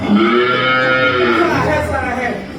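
A cow moos loudly and close, one long drawn-out low call that slowly fades toward the end.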